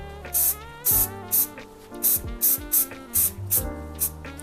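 Textured paint sprays in short, light back-and-forth bursts onto a vinyl headrest of a 1970 Plymouth Custom Suburban, about nine even hissing pulses close to the mic, with no talk.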